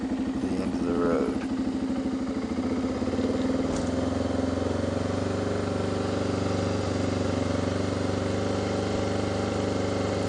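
A motorcycle on an overland ride in Greece idles unevenly at close range, a steady low throbbing rumble with a slightly wavering beat and a quick throttle blip early on.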